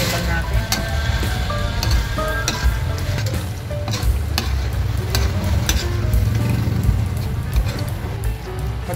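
Pork menudo sizzling steadily in a pan while being stirred, with constant frying hiss and scraping of the utensil, close and loud, without speech.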